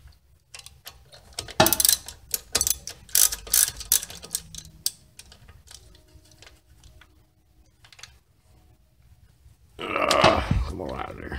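A ratcheting socket tool clicks and ticks in short irregular bursts while loosening a front brake caliper bolt on a 2008 Mercedes-Benz S550 4Matic, with a louder clattering handling noise near the end.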